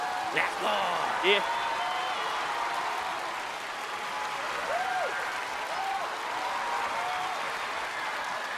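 Sustained audience applause fills a music competition stage, steady and dense for the whole stretch, with a few voices cheering through the clapping.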